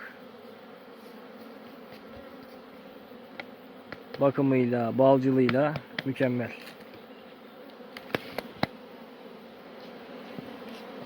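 Carniolan honey bees buzz in a steady hum, swelling loudly up close for a couple of seconds before fading back to a low drone, with someone speaking briefly.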